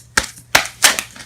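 Three sharp papery slaps and riffles of tarot cards spilling from a shuffle, each a brief crisp burst, close and fairly loud, with a faint patter trailing after the last.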